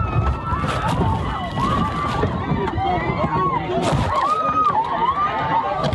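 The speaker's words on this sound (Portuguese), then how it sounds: "Os passageiros começam a gritar e chorar." Passengers of a crashing plane scream and cry in panic, with overlapping high wailing voices rising and falling continuously over dense noise, loud and close throughout.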